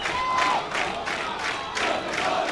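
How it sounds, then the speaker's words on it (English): A crowd at an aquatic centre cheers and shouts loudly in rolling surges as a school's first team walks in before a girls' under-16 water polo final, with a faint whistle-like tone early on. "if you can hear that cheering, it's the Bishop's first team walking into the aquatic centre"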